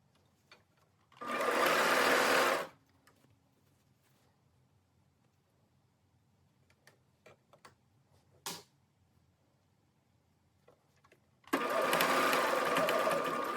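A sewing machine stitches a bodice seam in two separate steady whirring runs, each a couple of seconds long, with quiet handling clicks and a brief tap in between.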